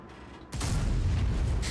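An FV4005 tank destroyer in World of Tanks fires its cannon. A heavy, low boom cuts in abruptly after a quiet moment and rumbles on loudly with little else heard.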